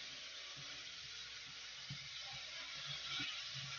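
A bottle gourd laddu mixture with sugar roasts in a pan with a faint, steady sizzling hiss and occasional soft scraping, quiet and continuous from start to end.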